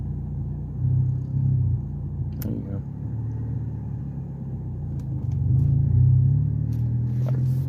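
A car engine idles and rumbles low as a learner drives a manual transmission, swelling briefly a couple of times and nearly stalling at low speed, with people talking over it throughout.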